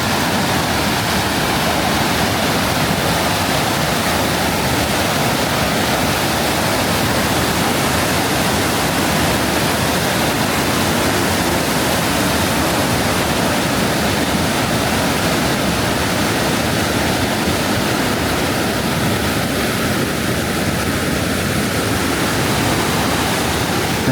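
Multnomah Falls in Oregon and the small river below it pouring over rocks on a foggy day, a loud, unbroken roar of rushing water with no voices.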